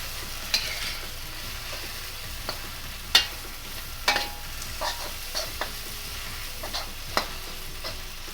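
Bean sprouts and spring onion stir-fried in a hot pan: a soft, continuous sizzle broken by irregular scraping and tossing clicks every second or so, fairly quiet and close, with no talking.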